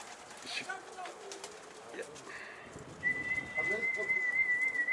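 Pigeons coo and rustle at a loft while an escaped bird is nearby, the bird sounds soft, and a man whistles a long steady tone partway through.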